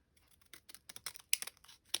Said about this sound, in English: take your scissors and just create a little curve from this mark to the end